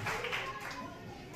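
Sustained, dense clapping from a crowd welcoming guests at a library inauguration in Saharghat. The applause fills the short moment evenly and sounds fairly close, with a murmur of voices mixed in.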